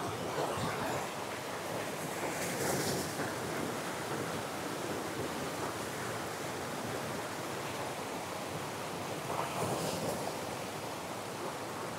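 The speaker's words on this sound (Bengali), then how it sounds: "দেখো প্রচুর পরিমাণে কিন্তু জলের স্রোতের ধারা, আর এখানে জলটাও বেশ পরিষ্কার।" A strong stream of water rushes near Devkund waterfall in Odisha, a loud, steady broadband roar of flowing water filling the whole stretch without pause.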